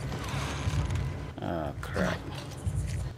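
Dogs growl and whimper in the video game The Last of Us Part II, with low, rumbling snarls under dense, steady game noise and ambience.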